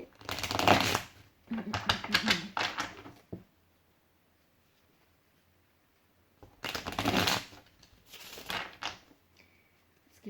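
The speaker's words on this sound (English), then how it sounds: "Let's give this a good shuffle." A large deck of tarot cards is shuffled in brisk, close riffling bursts: several quick rounds, a long quiet pause, then more shuffling.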